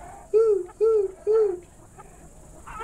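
Three evenly spaced owl hoots, close and clear, each a short tonal call, followed by quiet, heard during a read-aloud of a children's animal sound book.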